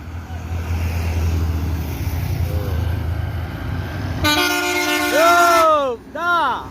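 An ANS intercity bus bound for Jakarta and Bandung rumbles past, then blasts a loud multi-tone horn in a long rising-and-falling musical honk, followed by a shorter second burst.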